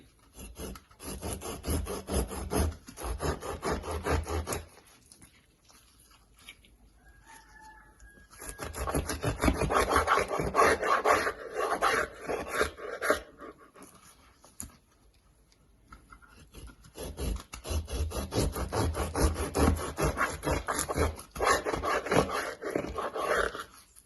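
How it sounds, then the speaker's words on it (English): Knife sawing through slices of herb-rubbed shark for a pan-seared shark recipe, a rasping cut heard in repeated passes with short pauses between strokes, close and fairly loud, no talking. "So I'm just gonna go ahead and cut into some slices"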